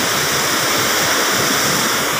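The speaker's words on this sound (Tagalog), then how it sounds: "Ito yung sinasabing Karacha Falls." Karacha Falls pouring steadily, a dense unbroken roar of falling water heard up close with no voices over it.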